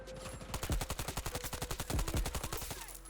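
Rapid bursts of suppressed subsonic gunfire in Battlefield 2042 form a steady, fast automatic rhythm of close, punchy shots with only brief gaps, in-game ambience running underneath.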